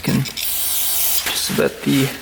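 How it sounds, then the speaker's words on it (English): Aerosol brake cleaner sprayed onto a cracked dirt bike part, a bright hissing spray that runs steadily for over a second, with a man's speech at the start and end. "just gonna spray that off with some brake cleaner"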